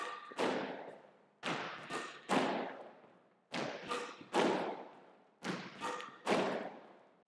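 Tennis balls struck with controlled, moderate forehand strokes, aiming at the service box, give a series of sharp hits with quick bounces, about eight in a steady rhythm, fairly close and alone.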